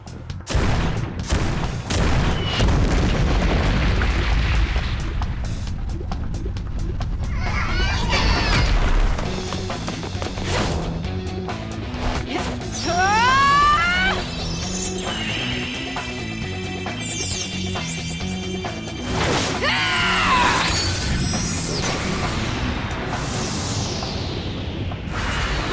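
Battle sounds from Persona 5 Tactica: artillery volleys and explosions, with bursts of rapid gunfire, crashes and whooshing blasts layered over game music. The sequence is loud and continuous, with dense clusters of impacts.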